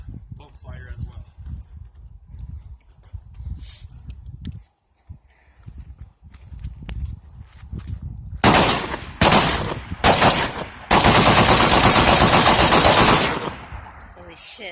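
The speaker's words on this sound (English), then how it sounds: "I'm going to try doing a bump fire as well." Loud bursts of rapid gunfire from an AK-47 pistol fired in bump-fire mode, several short volleys and then one long sustained burst, coming after a stretch of muffled talking.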